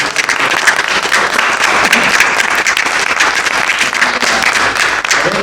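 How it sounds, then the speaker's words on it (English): Applause at an artist talk fills the room as dense, steady clapping from an audience, close and sustained throughout without a break. "let's give him a round of applause"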